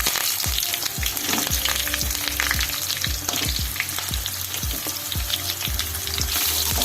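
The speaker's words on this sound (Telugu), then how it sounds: "ఇది ఎర్రగా వేగాలి." Curry leaves and onions frying in hot oil for chilli chicken, heard as a dense, steady sizzle punctuated by repeated scraping stirs throughout, close and loud with no talking.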